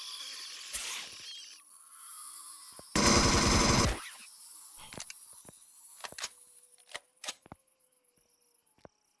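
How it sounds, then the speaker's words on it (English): A single loud, dense burst of sniper-rifle gunfire, about a second long, from the video game Empyrion Galactic Survival, followed by quieter scattered clicks and taps of gear and reloading. "So we can get them with the sniper rifle."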